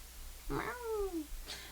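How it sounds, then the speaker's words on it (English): Cats meowing outdoors, one clear drawn-out yowl with a falling pitch, followed by a shorter, fainter cry, close by over low background noise. "No, for reals, there was cats outside."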